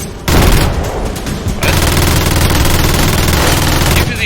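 Loud, dense gunfire from the video game Project Nimbus, sustained rapid bursts of machine-gun fire filling the whole stretch, with a brief gap near the start and heavy booming underneath.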